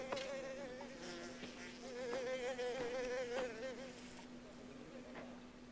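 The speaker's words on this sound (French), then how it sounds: "Il y a les mouches." Flies buzzing in the video game Mafia: The Old Country, a close, wavering insect drone that rises and dips in pitch for several seconds over a faint steady hum.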